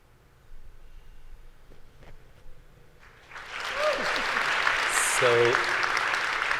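Audience applause at a medical industry annual dinner, a quiet murmur of voices that swells into sustained clapping from a large crowd, with a brief whoop or cheer rising through it.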